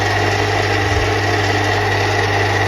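EMCO FB2 milling machine motor running steadily at its slowest speed, a constant close hum with even droning tones and no variation.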